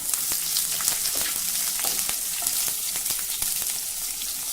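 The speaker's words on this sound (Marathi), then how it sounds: "आता यामध्ये चवीनुसार हिरवी मिरची घालूया" Green chilies are added to peanuts already fried crisp in a pan, giving a steady, close sizzle with scattered sharp crackles and pops throughout.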